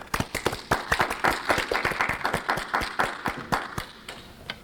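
Applause at a university commencement ceremony: a modest group's clapping with distinct, fairly regular individual claps running steadily throughout, moderately close and without talk.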